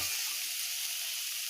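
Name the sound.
onion frying in a pan for chowmein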